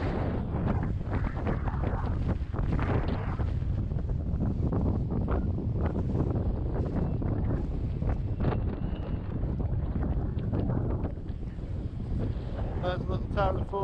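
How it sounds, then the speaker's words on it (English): Strong wind buffets the microphone by the sea at Fort William, a continuous loud roaring rumble with no letup and no clear voices over it. "It's a windy day."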